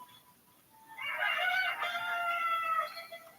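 A chicken crows in the video game Zelda: Tears of the Kingdom. One clear, drawn-out cock-a-doodle-doo call rises out of near silence and stands alone, with no talk.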